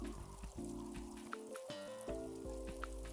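Light rain pattering in the video game Latte Stand Tycoon, soft scattered drops under louder game music that keeps playing throughout, with no talking.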